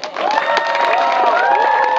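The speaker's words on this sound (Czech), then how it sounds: "Zasloužený potlesk." A crowd at an awards ceremony cheers and applauds the winner of the toughest category, a dense, loud, continuous wash of clapping and voices lasting about two seconds.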